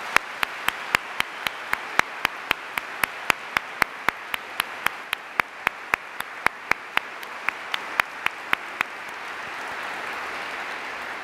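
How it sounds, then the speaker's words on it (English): Sharp, evenly spaced claps ring out alone across a university hall in Sydney, greeting the UN Secretary-General Ban Ki-moon, with a steady rhythmic beat over a soft background murmur. "A round of applause for the United Nations Secretary-General,"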